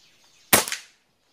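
A single sharp crack from a converted Taurus PCP air rifle firing a Meteor Diabolo pellet, close and loud, with a brief ringing tail and no talking.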